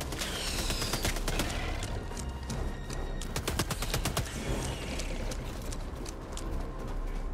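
Rapid volleys of shotgun fire in the Helldivers 2 video game, a dense run of sharp cracking blasts in clusters, loudest in the middle, over a low rumbling game backdrop with no talk.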